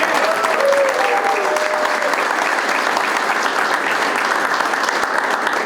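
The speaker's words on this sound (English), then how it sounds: "Let's give Mike a round of applause." Applause from the audience at a Republican election night gathering, brisk continuous clapping with a few whoops early on, loud and even from start to finish.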